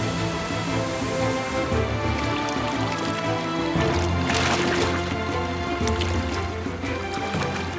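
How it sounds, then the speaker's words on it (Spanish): Foaming rapids on the Nile northwest of Lake Victoria give a continuous dense rush of churning water, steady and full throughout with brief splashy surges. "el Nilo cobra vida, fluyendo en cascadas sobre espumosos rápidos rumbo al norte"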